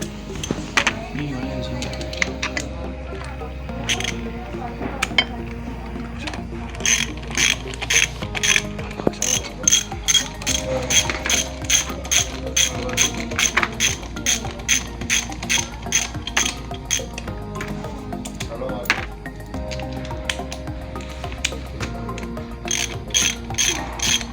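Ratchet wrench tightening bolts on the front transmission box of a walk-behind rice transplanter, giving rapid, close metallic clicking in long repeated bursts that run steadily, with a mechanical hum underneath.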